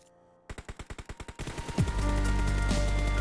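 Rapid burst of about ten gunshots from a red-dot-sighted weapon in PUBG Mobile, evenly spaced and loud, then a dense sustained roar of further fire and game noise.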